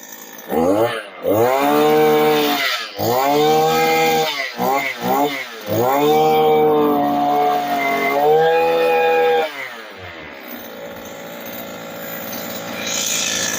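A petrol-engine farm tiller machine starts and runs close by, its engine revving up and down in loud bursts before dropping to a rougher idle, with people talking over it.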